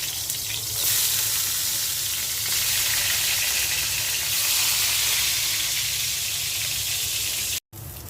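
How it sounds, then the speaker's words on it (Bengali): Eggplant frying in hot oil in a home kitchen, a loud continuous close sizzle with a steady hiss that runs unbroken, briefly cutting out near the end. "এখন বেগুনটা ভেজে নিচ্ছি।"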